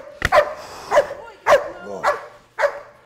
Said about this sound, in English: We're going to let him bark a little bit, show that power.